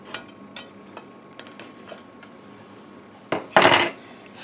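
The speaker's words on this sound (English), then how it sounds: "I just flip it onto a plate." A Dutch oven of artisan bread is flipped onto a plate: a few light metallic clinks and taps, then a louder clattering knock of pot and plate near the end, close and without talk.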